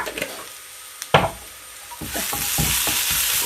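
Cumin seeds crackling and popping in hot oil while making a Kerala moru curry, with scattered sharp snaps and a stirring scrape as the sizzle builds.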